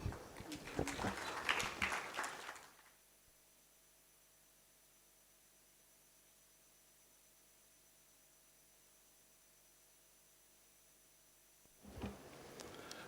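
Audience applause after a speech at the 32nd ARSO General Assembly: a dense, loud burst of clapping for about two and a half seconds that cuts off into near silence, then a short swell of sound returns at the very end.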